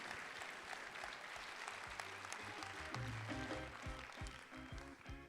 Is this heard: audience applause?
yes